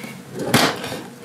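A desk drawer in a home desk setup slides open or shut with one short, close scraping rattle, followed by faint handling noise.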